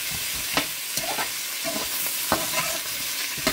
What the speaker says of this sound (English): So I'm going to need to add my butter. And as you can see, my pan is already hot.